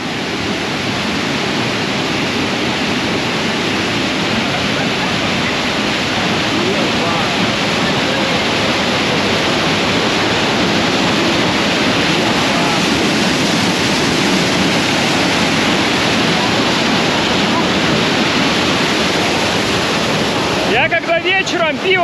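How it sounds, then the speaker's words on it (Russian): Water thundering down the Croton Dam spillway in New York, heard from up close in the spray as a loud, steady broadband roar that never lets up, with a brief disturbance right at the end. "идем сейчас прям под воду, туда, где она стекает, самые-самые брызги"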